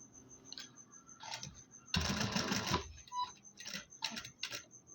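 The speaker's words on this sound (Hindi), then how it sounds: "पाण खे किनार ते बिल्कुल सिलाई हणणी आहे" A sewing machine stitches along the edge of a pocket label, heard as short bursts of quiet mechanical whirring and ticking with one longer, louder run in the middle; fairly faint and close.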